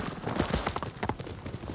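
Hooves of a horse in Ghost of Tsushima, a quick clattering gallop of faint rapid clip-clops coming in over a short stretch.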